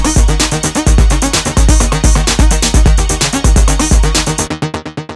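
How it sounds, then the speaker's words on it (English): Fast, crisp drum machine hi-hats tick rapidly over a busy Detroit electro techno drum pattern with booming kicks, loud and punchy, then the low end drops out and the hats ring alone. "it's important to make sure these hi-hats are hitting right"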